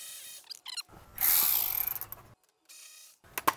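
A ratchet clicks in a few short bursts while loosening a bolt at the seam between fender and bumper cover on a 2018 Chevrolet Equinox, close and fairly quiet with brief pauses.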